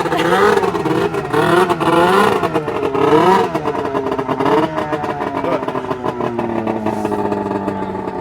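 A trail-riding snowmobile revving hard, loud and close, the engine pitch surging up and down repeatedly and then settling into a steadier drone.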